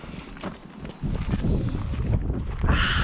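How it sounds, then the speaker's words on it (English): Wind gusting through a garden in mid-July, a steady low rumble buffeting the microphone that strengthens after the first second and holds, with no voices. "but it's windy"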